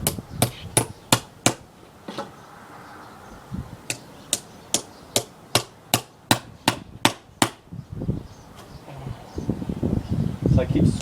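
Sharp, evenly spaced hammer blows drive a chisel into a wooden Japanese trunk beehive as it is squared, a run of loud close strikes, a brief pause, then another quick series before scraping and shuffling take over.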